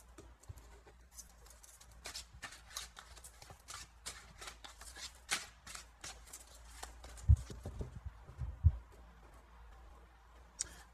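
Tarot cards being shuffled and handled by hand, soft riffling flutters and light slaps in irregular bursts, fairly quiet and close, with a couple of sharper thumps near the end.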